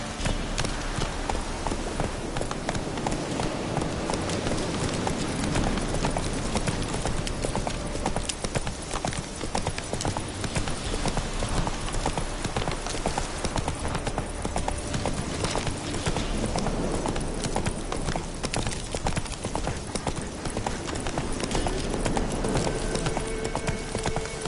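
Roach, a horse in The Witcher 3, gallops on and on in a fast, steady clip-clop of hooves, dense and continuous at close range.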